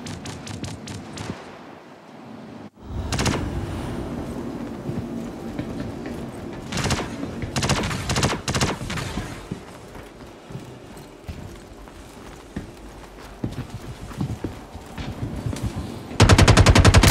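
Gunfire fills a first-person shooter round in Star Citizen, with bursts of rapid automatic shots and single cracks over a steady game ambience, ending in a loud sustained volley.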